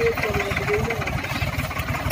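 A Farmtrac 60 tractor engine runs with a steady, loud, throbbing diesel rumble during a tractor pulling contest against a Mahindra 265, with a faint voice over it.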